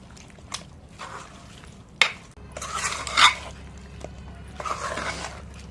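Drumstick pickle being mixed in a pan with a spoon, giving intermittent close scraping and clinking strokes with soft wet stirring, a few sharper knocks of utensil against metal between quieter pauses.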